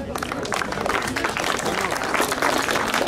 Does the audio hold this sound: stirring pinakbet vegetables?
no